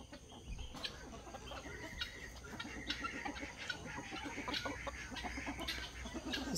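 Chickens around a backyard coop on an early morning, soft repeated clucks and short calls scattered through the clip at close to middle distance, fairly quiet, with no talk.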